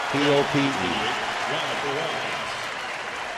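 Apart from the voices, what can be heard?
crowd applause at baseball game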